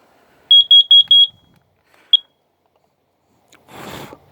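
A carbon monoxide detector in an RV shrieks four rapid high piercing beeps, then one more lone beep, followed by a burst of breathy blowing noise at the end.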